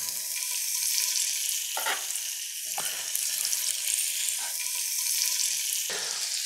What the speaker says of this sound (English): We want to get them nice and browned on the outside